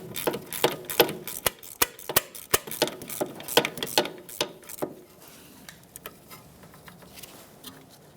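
A hand ratchet with a 10mm socket loosens a nut on a mount at the rear wheel of a 2013-2018 Toyota RAV4, giving a rapid run of sharp clicks for about five seconds, then a few scattered, quieter clicks.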